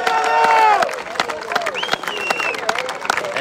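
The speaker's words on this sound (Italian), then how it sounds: "dal boato, dagli applausi dei genitori" Parents cheer and applaud at a youth tournament award ceremony for the winning team, Inter: a loud, dense wash of clapping and crowd roar with shouted voices, strongest at the start and then settling to steady applause.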